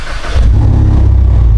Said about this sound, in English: And let us start the car.